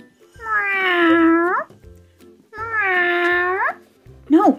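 A person's voice imitates a cat meowing, with two long, drawn-out meows and a short third one at the end, close and loud.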